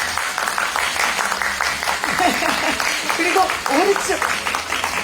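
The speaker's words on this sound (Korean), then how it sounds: "박수가 끊이지 않습니다." An audience applauds at a press conference for a TV entertainment show, a sustained wash of clapping under a host's amplified speech in a large room.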